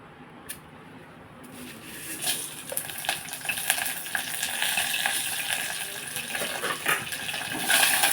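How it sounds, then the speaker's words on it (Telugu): Tempering for rasam, with mustard seeds, cumin, dried red chillies, curry leaves and onion, sizzling in hot oil: a hiss that starts quietly and grows to a dense, crackling sizzle, heard close with no talk. "చారు తాలింపు వేసేసుకుందాం."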